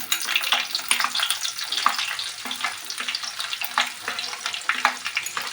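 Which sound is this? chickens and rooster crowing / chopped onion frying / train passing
chopped onion frying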